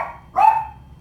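A single sharp bark from a small pet dog, close and fairly loud, standing alone in a quiet room.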